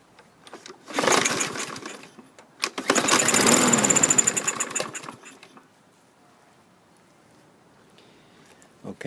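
A 2016 Troy-Bilt push lawn mower, running on stale fuel and needing a carburetor cleaning, coughs to life in two short rough bursts, the second about two seconds long, then cuts out into quiet.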